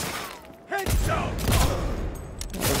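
Gunfire in Cyberpunk 2077 comes as a burst of rapid shots with heavy thumps, fairly close and loud, with a few short vocal sounds mixed in.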